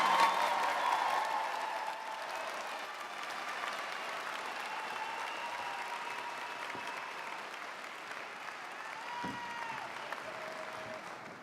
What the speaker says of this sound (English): Let us all applaud the class of 2019.